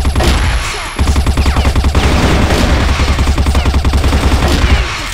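Rapid automatic gunfire from a shooter video game rattles loud and nonstop, a dense stream of close shots with a short break near the start.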